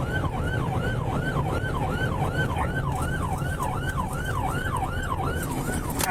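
A police car siren sweeps up and down in a fast, repeating yelp, steady and fairly close over road noise, while pursuing a wrong-way driver.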